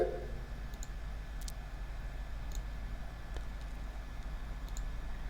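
Computer mouse clicking at a desk, a few faint sharp clicks spaced irregularly over a low steady hum, with no voices.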